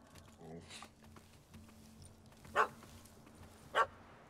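Dog barking in The Witcher 3: Wild Hunt, Hearts of Stone: two short, distinct barks about a second apart, fairly faint over low background voices.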